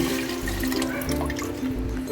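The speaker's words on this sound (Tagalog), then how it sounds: "maglalagay na tayo ng panibagong tubig" Fresh water pours steadily into a cooking pot for paksiw na pata, a continuous close splashing stream with no voices.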